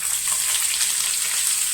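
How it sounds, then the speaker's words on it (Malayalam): Cauliflower pieces fry in hot oil in a pan, giving a steady, dense sizzle that holds evenly throughout with no talk. "ഓയിൽ ചൂടായിട്ടുണ്ട് നമുക്ക് അതിലേക്ക് കോളിഫ്ലവർ"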